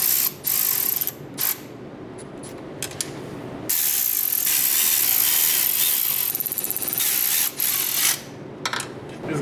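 A ratchet snugs bolts on a Subaru. Runs of rapid, close, loud clicking are broken by short pauses, with one long continuous stretch in the middle.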